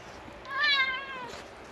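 A cat meows outdoors in a yard, one drawn-out rising and falling meow, fairly close and clear against quiet surroundings.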